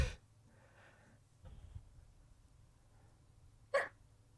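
A single short, sharp sneeze-like burst near the end, otherwise a quiet room with faint breathy noises.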